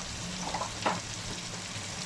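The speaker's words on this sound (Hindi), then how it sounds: "ज़बरदस्त किस्म की मसाला भुनी आना स्टार्ट हो गई है" Masala for a mixed vegetable curry of potato, peas and carrot fries in a pan with crushed red pepper and salt, giving a soft, steady sizzle with a few brief crackles and no talking.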